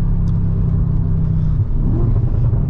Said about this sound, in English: it's like the slightest press of the throttle is revving up the engine